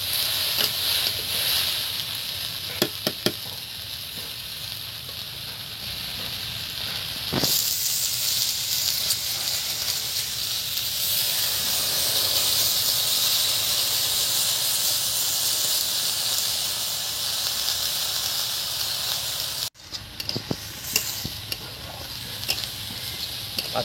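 Washed lentils drop into a hot pan with oil, setting off a loud, close, continuous sizzle and hiss with stirring scrapes, while a brief clatter punctuates the steady frying.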